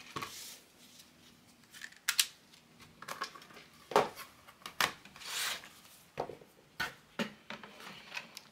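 Cutting a card panel for a stencil craft project: scattered close scraping and snipping strokes, some sharper clicks, at a quiet level with pauses between cuts.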